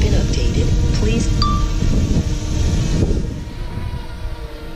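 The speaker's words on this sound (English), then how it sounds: "It's a little bit more windy out here though." Wind blows across an open grassy field during an outdoor drone flight, a loud low rumbling buffet against the microphone that eases toward the end, with faint tonal hum above it.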